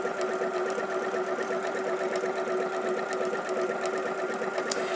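A sewing machine stitches fabric appliqué on a cushion in a fast, steady mechanical whir with a rapid needle patter, close and continuous, with no talking.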